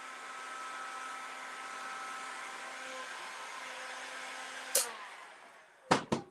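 A heat gun's steady, rushing blower hum runs continuously, then cuts off, followed by a couple of short clicks and knocks.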